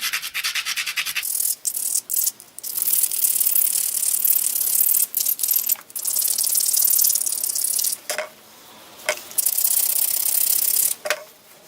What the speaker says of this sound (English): Grind down where I hold it so I don't slice the crud out of my fingers.